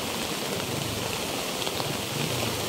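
Heavy rain pouring steadily over a village near a river and bridge, a dense unbroken hiss of falling water close by with no voices.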